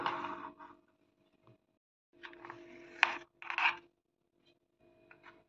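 Cooled burfi sweet cut into pieces in the pan, giving short close scraping and rasping strokes in a few separate bursts with quiet gaps between them.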